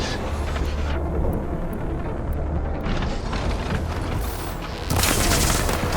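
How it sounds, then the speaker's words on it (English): A big explosion in the PS5 game Horizon Forbidden West Burning Shores, a loud sustained roaring blast with rumbling debris that flares up again near the end, heavy and continuous throughout. "Hey, big explosion! Watch out!"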